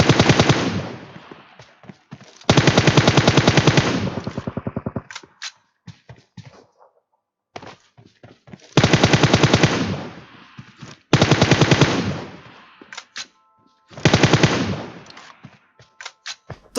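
Video-game machine gun fire rattles in rapid bursts of a second or two each, loud and close, separated by gaps with scattered single shots and faint ambient noise.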